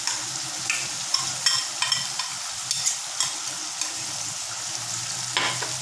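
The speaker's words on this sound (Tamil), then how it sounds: "இப்போ அரைச்ச மிளகாய் போடுறேன்." Ground chili paste sizzles and fries in a hot pan while being stirred, a steady close crackling hiss with light scraping clatters throughout.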